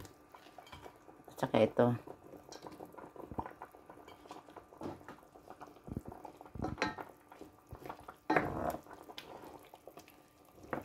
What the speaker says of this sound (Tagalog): So, karon ilunod na nato ang talong.